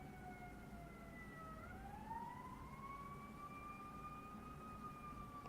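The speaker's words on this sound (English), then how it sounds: "There is an ambulance right outside my window." An ambulance siren just outside a window wails in long, slowly rising and falling tones, distant and faint under steady background noise.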